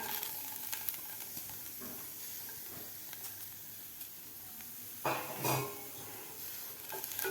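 Cluster beans dry-roasting in a pan, a soft continuous sizzle and hiss with occasional stirring scrapes and a louder clatter of the pan near the end.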